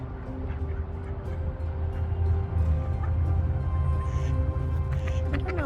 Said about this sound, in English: I think these ducks are used to being fed.